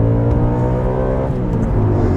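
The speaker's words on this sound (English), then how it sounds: "I actually got to rev that engine out without breaking the speed limit" A 2006 Audi RS4 B7 Avant's engine revs hard in second gear, a loud, steady, rising multi-harmonic drone heard from inside the car without interruption.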